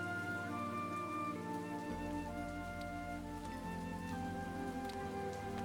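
Steady rain falls in a dramatic teen-sitcom scene, an even wash of patter heard throughout under a continuous music bed.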